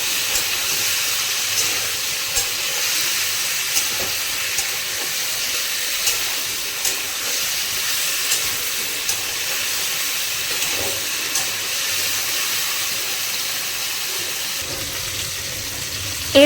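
Potato and pumpkin pieces fry in oil in a pan for a Bengali pui shak chorchori, a steady broadband sizzling hiss with faint regular ticks of stirring, no talk.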